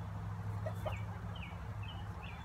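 Chickens gathered around a backyard pool of water at a garden coop, with ducks nearby, give faint, scattered clucks and short chirps over a steady low hum.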